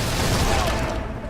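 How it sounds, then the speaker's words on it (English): Dense, roaring burst of enemy gunfire in Fable 3, a loud continuous blast of overlapping shots filling the whole moment before fading slightly. "The enemy's shooting at him!"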